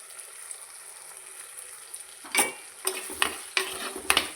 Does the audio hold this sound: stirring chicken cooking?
yes